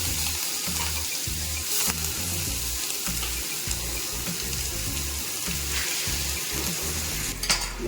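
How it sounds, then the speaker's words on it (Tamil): Finely chopped onion and crushed garlic fry in a pan for a Tamil greens poriyal, a steady close sizzle and crackle with a low background hum and a few light clatters near the end. "நல்லா பொடியாக கட் பண்ண வெங்காயம் சேர்த்துக்கிறேன்."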